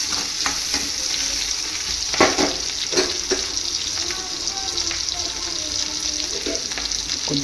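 Fish sizzles steadily in a frying pan while being cooked for a curry. The loud, even frying runs throughout, with occasional stirring scrapes and clinks.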